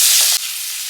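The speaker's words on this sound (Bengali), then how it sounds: "একটু নাড়াচাড়া করে নিই" Diced onion and potato fry in butter with crushed black pepper, cinnamon and chopped ginger-garlic, a loud close hiss with a quick stir, the sizzle dropping slightly as the stirring stops.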